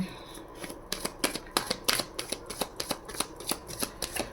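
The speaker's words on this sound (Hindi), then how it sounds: "शफल करना रह गया था" Tarot cards shuffled by hand in a steady run of crisp, rapid flicks and slaps, close and clear, with no talking.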